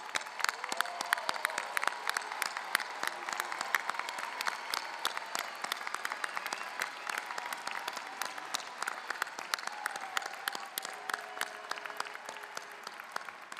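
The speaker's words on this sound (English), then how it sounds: "Let's give them a round of applause." Sustained applause from a large convocation audience for engineering honors graduates at a college of engineering ceremony, dense steady clapping filling the hall throughout with a faint crowd murmur beneath.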